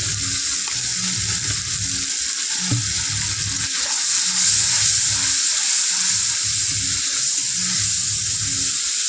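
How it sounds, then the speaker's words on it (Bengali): Spice paste with ground coriander and salt fries and is stirred in oil for a fish curry, giving a steady, loud sizzle with irregular low scraping strokes of stirring throughout, close and without talk. "মশলাটা কষানো হয়ে গেছে, আমার তেল ছেড়ে দিয়েছে।"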